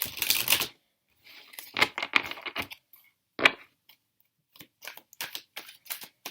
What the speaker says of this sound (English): Going to shuffle